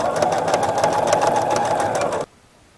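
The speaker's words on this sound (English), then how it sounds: "manually lower my needle down exactly where I want to start, and continue stitching" A sewing machine stitching a decorative pillow runs at a fast, steady whirring rhythm close up for about two seconds, then stops abruptly into near silence.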